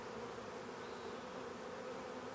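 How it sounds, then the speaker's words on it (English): Honey bees hum in a steady, dense buzz inside an open hive at a sugar feeder, a continuous close drone with no breaks and no voices. "Bee cluster here."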